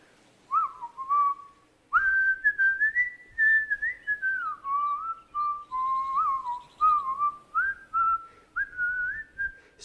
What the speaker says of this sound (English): began to whistle